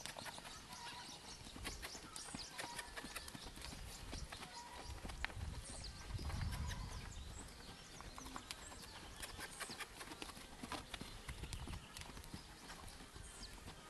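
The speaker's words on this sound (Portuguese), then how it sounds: "Ela parece que fica num galope, bem curtinho assim" A three-year-old mare working on a stud farm in a short, choppy gallop, hooves thudding in a steady rapid rhythm at moderate distance under outdoor ambience, with a few birds and faint voices.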